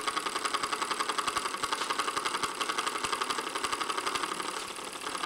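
A small vertical solenoid engine running on 12 volts, giving a steady, rapid mechanical clicking and buzzing beat at an even rhythm, close and fairly loud throughout with no talk.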